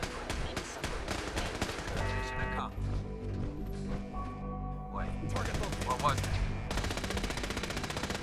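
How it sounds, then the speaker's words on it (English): Rapid turret gunfire in a video game rattles in dense automatic bursts with short pauses and varied weapon tones, continuing fairly loud throughout the clip. "it definitely sounds like there's turrets"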